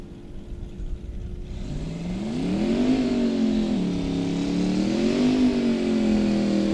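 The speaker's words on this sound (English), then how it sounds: "We'll send the 75 Dodge Sport down the right-hand side of the racetrack." A 1975 Dodge Sport drag car launches down the right-hand side of a drag strip, its engine roaring loudly and climbing through several rising revs and gear changes that stay strong and close throughout.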